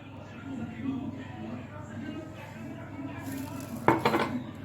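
Cake batter of eggs, sugar, flour and oil being beaten in a bowl, a low, rhythmic swishing that ends in a burst of sharper clattering strokes against the bowl, with a voice talking faintly in the background.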